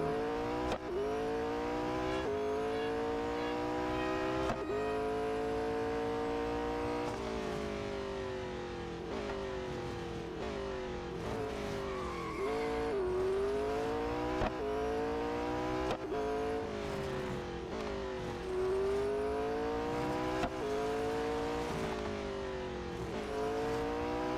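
Race car engine in the Real Racing 3 mobile racing game, revving steadily through gear changes, rising and falling in pitch across repeated shifts, loud and continuous with no talk.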